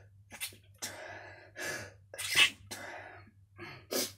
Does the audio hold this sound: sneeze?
yes